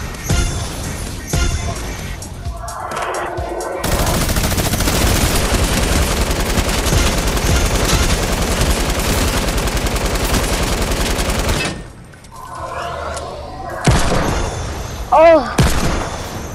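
Sustained, loud automatic gunfire in a zombie video game runs continuously for several seconds, with quieter game sounds before and after and a brief burst of other effects near the end.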